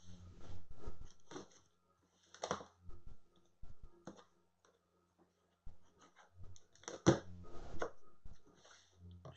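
Cutting into the graphic-printed cardboard box of an Aspen E5 aircraft instrument, heard as a run of close, sharp clicks, scrapes and slicing scratches that come in irregular bursts with short quiet gaps.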